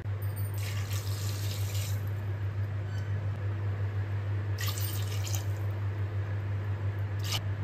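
Water pours steadily over mutton bones in a pressure cooker for bone broth, a continuous close gushing flow with brief splashy surges and a low hum underneath.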